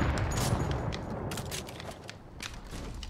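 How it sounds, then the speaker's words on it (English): Enemy fire aimed at the player in a Fortnite one-shot match: a quiet, uneven volley of sharp cracks scattered across the moment, with no voices over it. "He's shooting at me."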